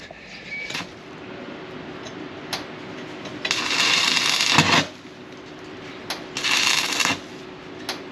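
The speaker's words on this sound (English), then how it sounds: "I'm just going to try and weld a piece on there, grind it back so it clips in and hopefully holds" An arc welder lays a piece onto a worn sheep-shearing machine part in bursts of crackling, sizzling sputter, two longer runs between short tacks, separated by quiet pauses.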